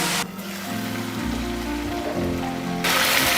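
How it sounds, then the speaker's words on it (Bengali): Chicken lollipop leg pieces deep-fry in hot oil, a dense, steady bubbling hiss that holds at moderate loudness throughout, with no voices heard. "এইভাবে আস্তে আস্তে গোল্ডেন করে ভেজে তুলতে হবে তোমাদেরকে"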